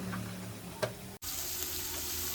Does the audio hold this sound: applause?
no